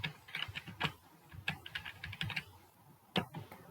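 Quick bursts of keystrokes on a computer keyboard while typing code, irregular clusters of close, crisp clicks with short pauses between them.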